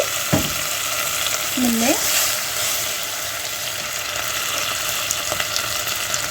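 Steady, loud sizzling rises from fried bread in a hot pan as vinegar is added, with a crackling frying texture continuing throughout; someone speaks briefly over it.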